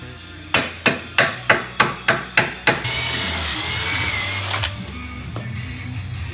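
In an auto repair shop during lower control arm work, a tool fires about nine sharp, evenly spaced rapid bursts close by, followed by a steady whirring drill run that fades into shop background.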